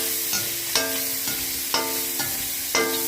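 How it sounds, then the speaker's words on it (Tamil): Onions sautéing in a pan for a ponnanganni keerai kootu, a steady close sizzle broken by several scraping stirs at roughly regular intervals, with no voices. "நம்ம வெங்காயம் நல்லா வதங்கட்டும்."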